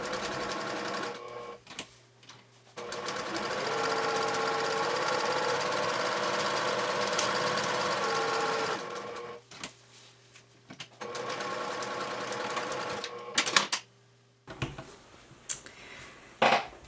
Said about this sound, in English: on your sewing machine